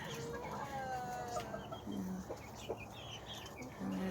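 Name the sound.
backyard chickens clucking, rooster crowing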